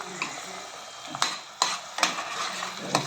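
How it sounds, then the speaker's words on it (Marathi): Ground spice and onion paste sautéing in oil for a Maharashtrian pavta and chavli bean curry, with a low steady sizzle and several sharp scrapes of a spoon stirring against the pan, close and loud with no talk. "तेलावर कसं चांगलं परतून घ्यायचं आपल्याला"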